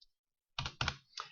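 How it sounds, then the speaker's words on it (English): Typing on a computer keyboard, a soft tick followed by three distinct keystroke clusters, close and quiet in an otherwise silent room. "start typing the instruction"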